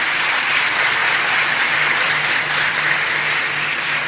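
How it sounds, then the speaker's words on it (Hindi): Loud, continuous applause from a large audience in a hall in Bhopal welcoming the Chief Minister, a dense even wash of clapping that holds steady throughout. "और जोरदार तालियां होनी चाहिए।"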